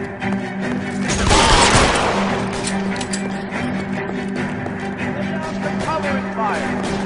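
Gunfire in the L.A. Noire video game during an arson case at an electroplating plant: a loud burst of rapid shots early on, then scattered fainter shots and mechanical clatter.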